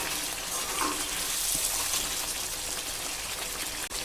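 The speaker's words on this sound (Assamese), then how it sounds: "অকমান পানী দি ভাজি থাকিলে হ'ল" Chicken fries in a pan with a little water added, cooked with white mustard seeds, making a soft, continuous sizzle with faint bubbling close by and a brief dip near the end; nobody speaks.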